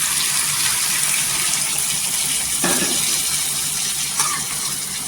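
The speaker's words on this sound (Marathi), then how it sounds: "गरम पाणी टाकायचं." Hot water poured from a glass into a pan of cluster bean and potato curry, a steady rushing pour under a continuous broad hiss, with a short splashy burst partway through.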